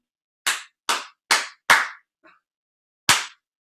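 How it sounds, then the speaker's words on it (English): A group clapping a rhythm with cups: four crisp, evenly spaced claps, a faint stray tap, then one final clap after a pause, close and dry. "clap these cups more accurately on the first try"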